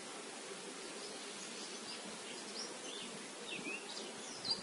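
Honeybees crawling over a hive frame during the chestnut honey flow, their soft continuous buzzing hum filling the clip at an even, fairly quiet level.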